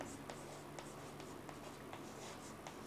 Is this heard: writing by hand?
yes